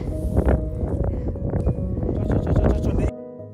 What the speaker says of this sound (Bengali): এবার আর ঠান্ডা প্রচন্ড হাওয়া দিচ্ছে